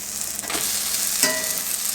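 Sourdough pancakes cooking on a hot skillet, a steady soft sizzle with a couple of brief scraping touches, close and alone without talk.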